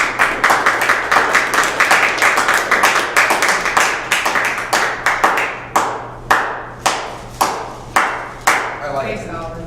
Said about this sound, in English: you really deserve a round of applause for that work throughout the year